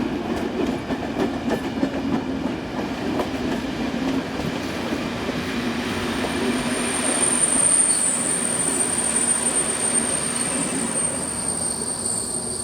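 A stopping passenger train from Plzeň rolls in behind a Class 242 electric locomotive, wheels squealing loudly against the rails and a low rumble building as it draws close and slows.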